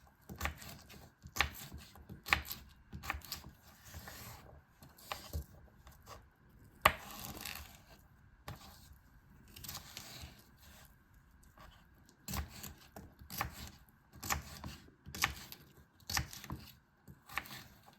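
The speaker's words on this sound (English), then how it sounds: "So first I'm going to cut the cucumber. Then I'm going to cut as a cubes like this size." A knife chopping cucumber into cubes on a board, a long run of quick, crisp taps in irregular bursts separated by short pauses, close and clear with no talking.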